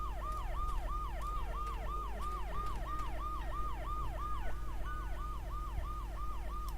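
Ambulance siren from the video game Dead Synchronicity, a steady two-tone wail cycling rapidly and continuously at moderate volume over a low background rumble, with no talk.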